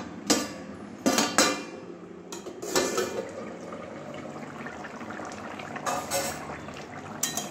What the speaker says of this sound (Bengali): এবারে ঢাকনাটা খুলে দেখছি আমার আলুগুলো সিদ্ধ হয়েছে কিনা।